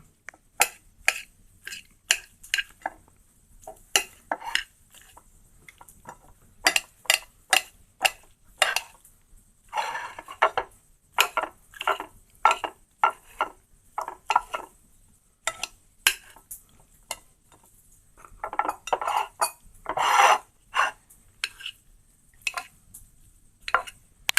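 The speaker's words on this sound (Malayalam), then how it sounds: "ഈ വറുത്തെടുത്ത ഈ ഓംപ്ലേറ്റ് നമ്മൾ ചെറിയ പീസ് പീസുകളാക്കി മാറ്റുക" A fried omelette being chopped into small pieces for egg manchurian, sharp repeated knife taps and clacks on a board or plate, irregular and close, with short quiet gaps between bursts.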